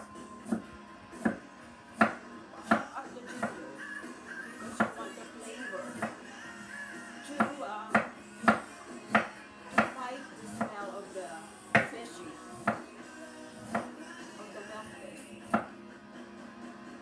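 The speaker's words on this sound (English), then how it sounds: "Chop it up." A knife chops ginger on a cutting board with sharp, evenly spaced knocks, about one per second, close and distinct, with a voice talking softly underneath.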